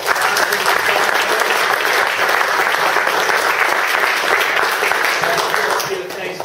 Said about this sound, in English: I just want to give a big round of applause